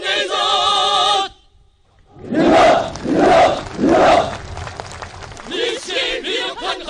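Three loud unison shouts from a large crowd of shipyard workers at a rally at the Nampo shipyard, each a sustained roar separated by short gaps, following a burst of music and preceding further music.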